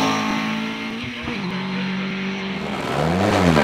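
A Formula Atlantic Argo JM9 Vauxhall race car at a hill climb roars loudly as its engine revs, with pitch shifts as it changes gear and climbs again, the note rising near the end.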